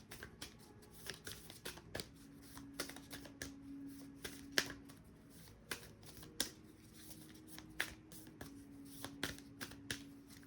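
Animal guide cards are shuffled and drawn by hand, producing close, crisp riffling flicks and slaps in irregular bursts over a soft background hum.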